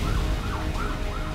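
An ambulance siren wails in rising and falling sweeps as the vehicle moves through knee-deep floodwater on a Chennai street after Cyclone Michaung, loud and close over a rumbling engine and splashing water, with no voices.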